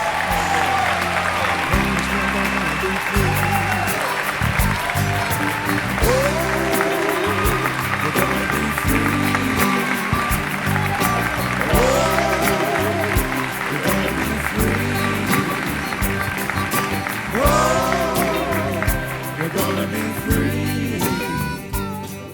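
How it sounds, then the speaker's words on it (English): Sustained loud applause from a large crowd at a gala as a band is introduced, steady and dense throughout, with a few cheers rising over the clapping. "please give a huge round of applause"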